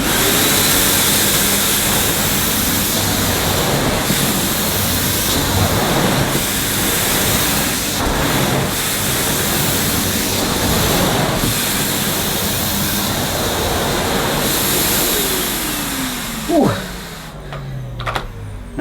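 Numatic Henry Next HVN204 vacuum cleaner running at maximum suction, a loud, steady whooshing whine that continues throughout, then fades toward the end as the motor winds down with a few clunks.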